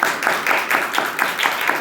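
A church congregation claps together in a steady, rhythmic beat, about eight loud claps in under two seconds, filling the room close by.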